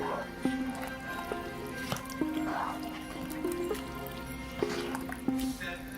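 Texas chili made with a packet of seasoning mix being stirred in a pot, with repeated soft wet squelches and spoon clinks at an uneven pace against a low background hum.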